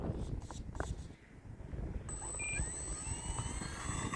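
An E-flite Valiant 1.3m BNF RC airplane flies in gusty wind, a steady high electric-motor whine over heavy, loud wind roar, with no voices.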